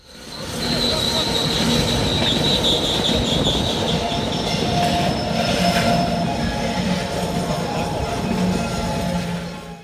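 A freight train rolls steadily past on the rails, with rumbling wheels, metallic squeals and clanks, loud and sustained from start to finish.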